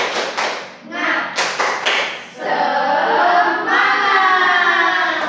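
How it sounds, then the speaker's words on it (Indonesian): A primary school class performs a rhythmic clapping chant in a classroom, a few sharp group claps at first, then a sustained burst of voices and clapping filling the room. "kita tepuk semangat dulu ya. Oke. 1, 2, 3. Tepuk semangat."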